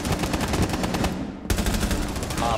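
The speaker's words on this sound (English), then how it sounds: "he's just shooting me through the fucking wall" Rapid automatic gunfire in Rainbow Six Siege shoots through an office wall, a dense loud stream of close shots barely pausing, with a brief break mid-burst.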